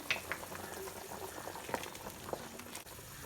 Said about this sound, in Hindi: पानी अच्छा सा बॉईल हो चुका है।